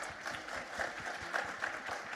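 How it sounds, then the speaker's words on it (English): A live audience claps steadily at a panel event on clinical trials and sickle cell research, the dense applause continuing evenly throughout with no voices above it. "A round of applause."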